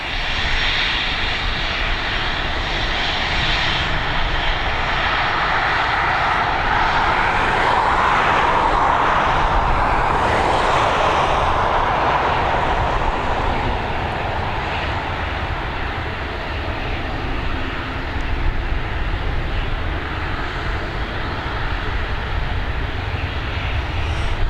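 A loud airliner takes off from Dublin Airport, its jet engines producing a broad, continuous roar that swells and slowly fades over about twenty seconds, with no voices.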